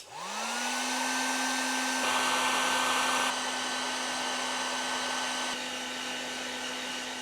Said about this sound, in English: we're going to heat down all the connectors now